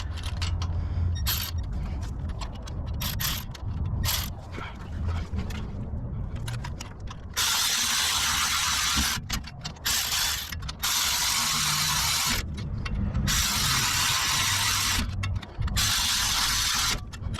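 A ratchet wrench tightens bolts in turn on a Ford Transit during front wheel bearing work, with rapid clicking bursts separated by short pauses and loud spraying hiss in later stretches.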